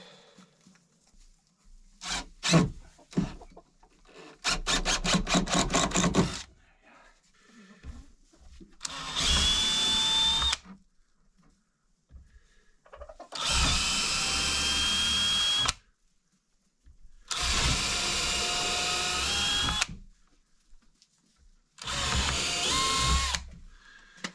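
Several bursts of a power drill with a worn-out bit whirring loudly, each lasting a few seconds with short pauses between, preceded by some clicking and rattling.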